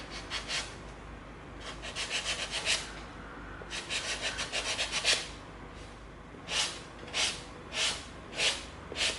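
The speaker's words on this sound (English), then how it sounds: "Let's come in with our 80 grit." EVA foam is sanded by hand with 80 grit sandpaper, producing soft, close rasping strokes that come in quick rhythmic runs, pause, then resume as slower separate swipes.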